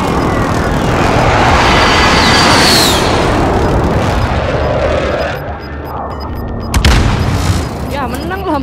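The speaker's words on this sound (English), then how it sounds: "Allied precision airstrike incoming." Airstrike explosions from Call of Duty Modern Warfare boom across a battlefield, a dense roaring rumble of blasts, then a sharp loud detonation near the end amid game sounds, with voices talking over it.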